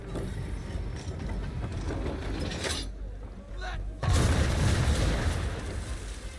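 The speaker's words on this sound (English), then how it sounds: "Now, aim all guns at her bow and do as much damage as possible." Ship's guns fire in the Assassin's Creed III video game: a steady low rumble of cannon fire and battle noise, then a heavy booming blast near the end, with speech faintly present.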